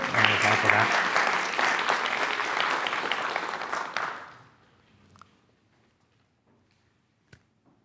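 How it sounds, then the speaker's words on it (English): Loud audience applause fills the first four seconds with dense clapping, then fades quickly to near silence with a couple of faint knocks. "Can I get a round of applause for that?"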